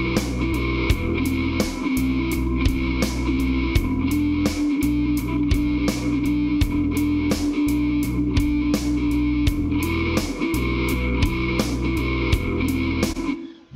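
Electric guitar run through the Crazy distortion preset in Guitar Rig 6, a thick grunge-like tone played in steady repeated chugging strums and chords, loud and continuous with no talking.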